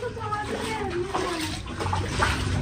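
Water overflowing across a flat rooftop at home, a steady wash of running, splashing water with voices talking over it.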